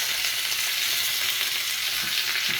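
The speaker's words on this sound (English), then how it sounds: "Starting out here in the black frying pan. I got them browning nicely." Pork riblets browning in a black frying pan, a steady loud close-up sizzle with faint stirring scrapes, no talk.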